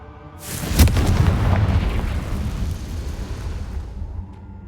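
A Confringo spell explodes in a Harry Potter video game with a sudden loud boom followed by a long rumbling, crackling decay that slowly fades out.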